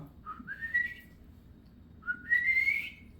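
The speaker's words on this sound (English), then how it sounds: "it's a whistle that when you heard that whistle, you better head home" An older man gives a soft family whistle twice, each a short rising note that slides up and holds, quiet and close, with a pause between the two.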